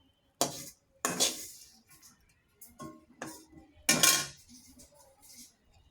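Metal spoon scraping and clinking against a kadai and bowl as fried spice mix is lifted out, several distinct clattering strokes separated by short quiet gaps, close and moderately loud.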